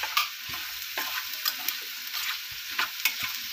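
Potato sautéing in a pan for a breakfast dish sizzles steadily while a utensil stirs, adding intermittent scraping taps, close up with no talking.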